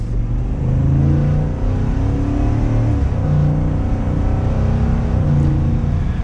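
A 2022 Ford F-150 Lariat FX4 pickup with a 5.0L V8 revs hard and steadily, a deep rumble climbing in pitch as it accelerates in second gear, loud and close.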